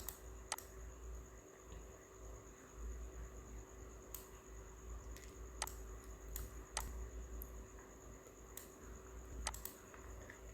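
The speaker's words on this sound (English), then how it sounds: "press Control J on your keyboard" Sparse keypresses and mouse clicks on a computer keyboard come in scattered single taps over a faint steady hum, with no one talking.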